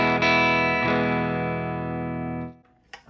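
Electric guitar played through a Fender Twin Reverb amp model on a Flatsons KMF-1 multi-effects pedal, a single loud strummed chord ringing out clean and sustained for about two and a half seconds before being cut off.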